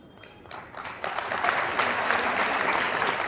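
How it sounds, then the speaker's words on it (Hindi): An audience applauding during a speech in a hall, the clapping starting softly and swelling into steady, dense applause that holds strong to the end. "ये ताली बजाने में आपको 70 साल लग गए।"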